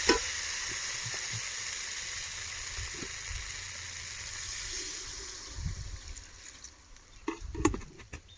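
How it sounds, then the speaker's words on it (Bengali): Water is poured into ginger paste frying in a pan during home cooking, the steady loud sizzle gradually softening, followed by a few clanks and stirring knocks near the end. "আদা বাটা দিয়ে ভালোভাবে কষিয়ে নেওয়া হয়ে দিয়েছে, এবার জল ঢেলে দেবো।"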